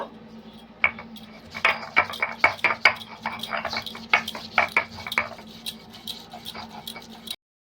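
Ginger crushed on a traditional grinding stone, a rapid run of sharp, close knocks and grinding scrapes in an uneven rhythm that stop abruptly, with no voices.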